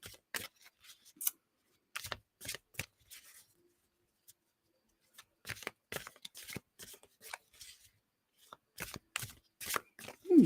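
Tarot cards shuffled in irregular bursts of crisp riffles and slaps, close and fairly quiet, with short pauses between flurries and no talking.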